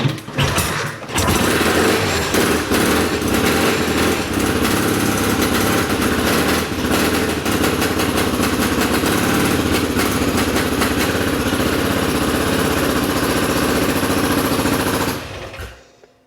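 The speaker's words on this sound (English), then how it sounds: "see if she runs on both cylinders properly" Classic twin-cylinder motorcycle engine running just after start-up during a low-budget restoration, a loud, rapid, uneven putter held for about fifteen seconds before it cuts out, with no talking.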